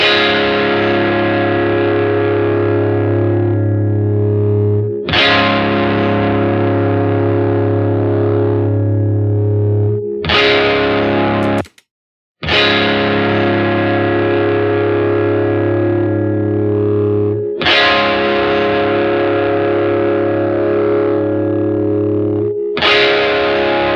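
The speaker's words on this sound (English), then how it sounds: "So you can actually change the way it sounds as if somebody were picking in a different part of the guitar." Re-amped electric guitar with heavy distortion, shaped in Melodyne, rings out as sustained chords in several phrases roughly five seconds each, with one brief drop to silence midway. It plays loud, close and alone.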